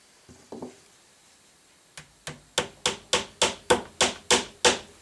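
A hammer driving a nail back into pallet wood: a few light taps, then a steady run of about ten sharp, loud, evenly spaced blows with no talking.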